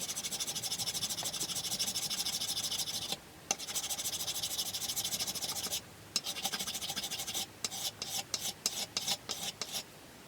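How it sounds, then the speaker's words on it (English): Fiberglass on an Apple II screen bezel is worked with a hand file, giving a close, continuous rasping scrape that breaks off briefly a couple of times and ends in short, separate strokes. "Normally when you do filing of fiberglass, you should wear a mask of some sort"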